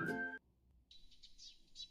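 A small bird chirps in a quick run of high, bright tweets, heard alone after a brief spoken word at the start.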